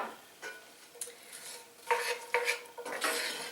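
Chopped celery and onion are stirred in butter in a skillet over medium-high heat, with repeated scraping and rasping strokes of a spoon against the pan, close up with faint background sizzle.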